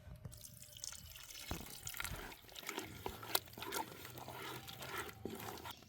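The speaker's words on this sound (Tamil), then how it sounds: "கால் டம்ளர் அளவு தண்ணினா இந்த மாதிரி திக்காக இருந்துச்சுன்னா நீங்கள் கொஞ்சம் தண்ணி சேர்த்துக்குங்க" Water is poured into a thick mushroom tikka masala in a pan, giving faint, close trickling and splashing with a few soft drips.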